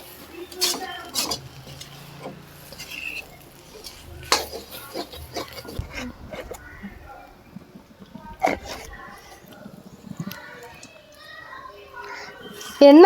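Pork being stirred with spice powders in a pan for a Kerala-style pork and koorka dish, with repeated clinks and scrapes of a spoon against the pan in irregular bursts, close by, with a voice talking at times.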